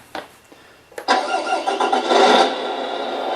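Tamiya MFC-03 multi-function sound unit in a radio-controlled truck plays a simulated engine start: a couple of starter clicks, then the electronic engine catches and settles into a steady rumbling idle, loud and close.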